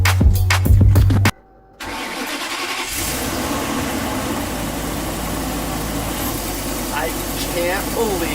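A Ford F53 motorhome engine with a throttle body fault cranks briefly, then catches and settles into a steady, rumbling idle that carries on, with voices speaking over it.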